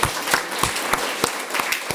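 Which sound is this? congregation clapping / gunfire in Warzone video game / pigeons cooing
congregation clapping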